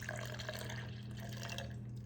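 Iced caramel coffee being made at home, with coffee poured over ice in a glass: a steady, close liquid pour runs throughout over a low constant hum, and no one speaks.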